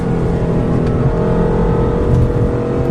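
A twin-turbo BMW M4 (2015) at full throttle on the Road America race track, its engine roaring loud and steady from close range as it pulls hard without letup, no voices over it.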